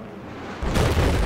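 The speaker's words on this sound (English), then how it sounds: "Loud explosions and shit." A loud, rumbling explosion in the video game Battlefield 4 (Paracel Storm, Conquest mode) erupts abruptly after a quieter stretch of low noise, filling the space with a heavy, sustained roar.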